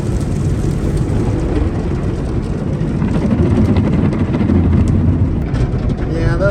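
Automatic car wash rollers and brushes pound against a car, heard as a loud, continuous rumbling, thudding wash with spraying water, close up and steady throughout.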